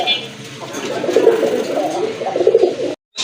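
Kagoji pigeons at a breeder's farm coo in low, repeated, throaty rolls close by, steady across the whole stretch before a brief cut near the end.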